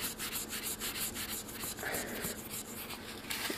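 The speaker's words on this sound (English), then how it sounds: "you can just give this a little rub right where you want to stamp." A copper metal blank is rubbed with a cleaning pad, giving a close, steady scratchy scrubbing with quick rhythmic back-and-forth strokes throughout.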